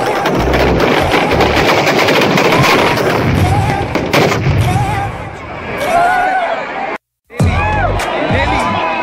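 Fireworks burst at a Dussehra celebration in Hyderabad, loud rapid cracks and booms rattling one after another amid a cheering, shouting crowd, with a brief drop-out before the blasts resume.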